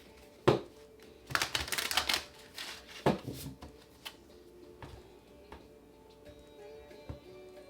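A deck of cards is shuffled during a tarot reading, with a sharp snap, a quick riffling burst, then scattered light taps and flicks as the cards settle, close and fairly loud with no talking.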